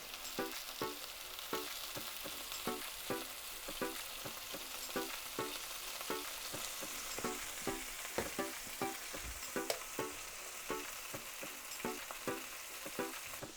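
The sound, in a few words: meat frying in a cast iron pan on the stove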